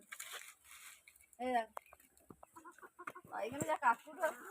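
Chickens cluck and squawk in flustered bursts as someone chases them to catch them, with voices talking close by throughout.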